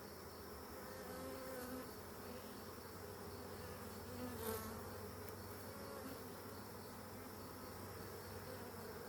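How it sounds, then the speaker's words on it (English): Honeybees hum in a dense, even drone around an opened hive while frames are lifted and checked for eggs, the buzz steady and close throughout with no speech. "I can hear them all buzzing at me"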